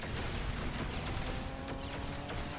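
Gunfire from the Lego Batman video game, a dense, steady stream of rapid shots and blasts filling the whole stretch at an even loudness, with no talking over it.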